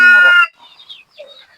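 A chicken suffering from snoring disease and white diarrhea gives one loud, harmonic call up close, then only faint, scattered rustling and small noises follow.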